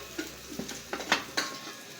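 Ginger sautéing in a pan with a low, steady sizzle, broken by several soft stirring scrapes and clinks of a utensil against the pan, close and fairly quiet with no talking.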